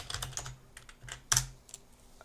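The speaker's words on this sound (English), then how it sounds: "let's press tab and type" Keystrokes on a computer keyboard while working in Nuke compositing software, a short run of separate clicks in an uneven rhythm, close and fairly quiet, with one sharper tap near the end.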